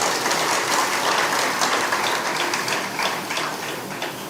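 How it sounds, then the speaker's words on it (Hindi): A live audience at a spiritual gathering claps loudly and continuously, a dense wash of applause that stays steady throughout and fades slightly toward the end. "तालियां जोर से बजाओ।"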